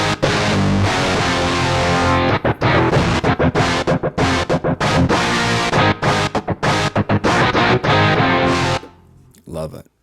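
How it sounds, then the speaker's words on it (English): A distortion effect grinds through electronic music in gritty, chopped bursts with abrupt stutters and gaps, loud and up front, before dropping away near the end. "It's not the distorted guitar samples used in the power chords. It's actually this distortion effect"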